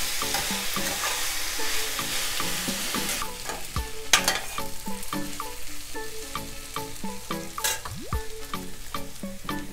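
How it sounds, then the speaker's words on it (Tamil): Onion sautéing in a pan over medium heat, a steady close sizzle with repeated scraping and clattering strokes of a spatula as it is stirred, continuous and fairly loud with no voices. "இந்த அளவுக்கு ஆனியன் நமக்கு வதங்கினா போதும்."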